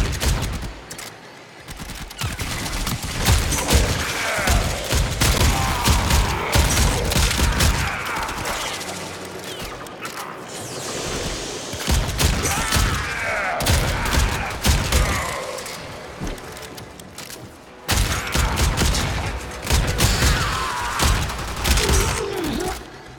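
Repeated gunfire from a weapon in the Warframe shooter, dense bursts of shots and thuds running throughout, loud and close, with game effects layered between volleys.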